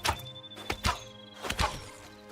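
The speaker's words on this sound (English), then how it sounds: "Oh, I love these crossbows, by the way." A crossbow in the video game Hytale, reloaded with a key press like a gun, gives about five dull thunking shots and clacks in an uneven rhythm, close and fairly loud, with no talking over it.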